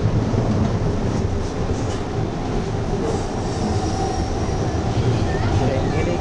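Continuous loud rumble of a Wuppertal suspension railway car in motion, with rushing noise, faint wheel squeals and a voice talking over the ride.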